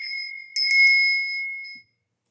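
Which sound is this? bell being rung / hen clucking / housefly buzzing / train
bell being rung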